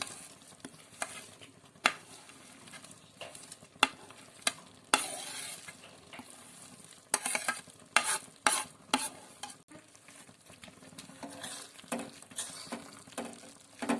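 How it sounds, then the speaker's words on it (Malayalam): Dried prawns hitting a hot pan and frying for a pickle, with sharp sizzling crackles and spatula stirring scrapes in bursts, close and fairly loud. "ഇനി നമുക്ക് ചെമ്മീൻ ഇട്ട് കൊടുക്കാം."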